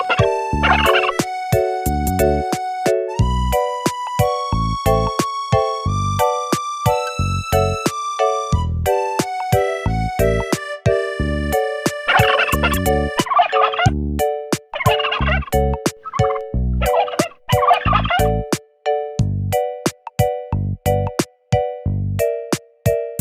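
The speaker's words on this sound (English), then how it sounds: "Turkey." A domestic turkey gives several rapid, bubbling gobbles in the second half, over a bright, bouncy children's tune that plays steadily throughout.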